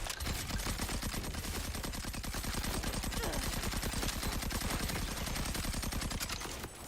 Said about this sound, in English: We should shoot at Donk.